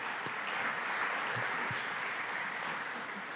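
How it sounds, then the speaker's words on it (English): A conference audience applauds during a morning healthcare talk. The clapping is continuous and even, steady throughout, and heard from a moderate distance at a soft level. "Let's give Nicole another round of applause."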